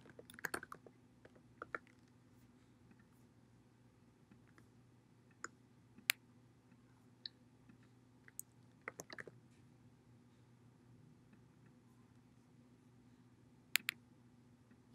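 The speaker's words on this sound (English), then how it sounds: "I'm going to click and start typing in text." Sparse, faint keyboard taps and mouse clicks come in scattered bursts over a quiet, steady hum, as text is typed on a computer.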